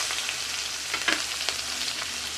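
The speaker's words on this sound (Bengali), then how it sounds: "এবার তেলে দিয়ে দেবো পেঁয়াজ কুচি," Chopped onion frying in oil after eggplant, a dense close sizzle with a few soft stirring scrapes, steady and fairly loud, no speech.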